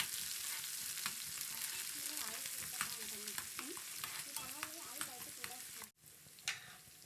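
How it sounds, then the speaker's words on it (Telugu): Sliced onions and curry leaves sizzle steadily in a hot pan while being stirred for a healthy cabbage and green pea fry, with a continuous crackle and occasional scrapes, and a brief voice over the frying. "ఇప్పుడు సన్నగా తరిగిన ఆనియన్స్ కూడా వేసేసుకుందాము ఈ విధంగా. అలాగే కొంచెం కరివేపాకు కూడా వేసుకుందాము."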